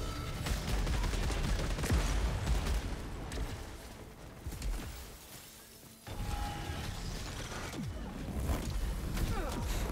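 Video game weapon fire in Returnal, a handgun launching homing missiles, with rapid bursts of shots and explosive impacts dominating the mix, a quieter lull near the middle, then renewed firing.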